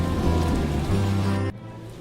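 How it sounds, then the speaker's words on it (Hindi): Rain falling steadily as a loud, dense wash of drops on surfaces that cuts off abruptly partway through, leaving a quieter background. "बरसात फिर से शुरू हो जाती है"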